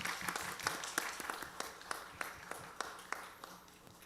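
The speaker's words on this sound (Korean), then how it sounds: "자, 우리 박수로 한번 축복합시다." Scattered hand claps from a church youth-service congregation, fairly quiet and uneven, sharp individual claps rising and falling over a few seconds.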